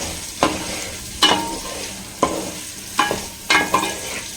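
Capsicum and paneer sauté in a pan on a high flame, with a steady sizzle broken by five sharp stirring scrapes at uneven intervals, close and fairly loud, with no talking.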